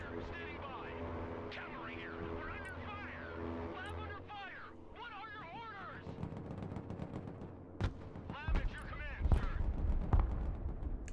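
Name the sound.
gunfire in a video game battle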